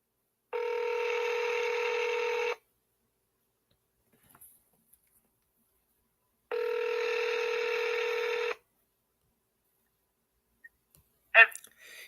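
A telephone call repeats its ringback or dialing tone twice, each a steady two-second buzzing burst separated by several seconds of silence, followed by a brief click.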